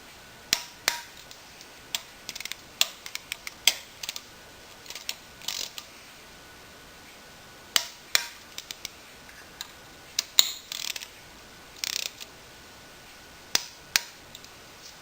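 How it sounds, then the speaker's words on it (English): A torque wrench set to 10 newton meters tightens oil pump bolts during a V-Max engine assembly, giving sharp, quiet ratcheting clicks in short irregular bursts separated by pauses. "So I have my wrench set for 10 Newton meters."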